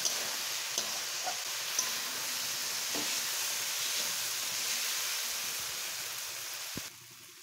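Lentils and taro greens sizzle and fry in a pan, a soft, steady hiss with a few faint stirring clicks and no talk.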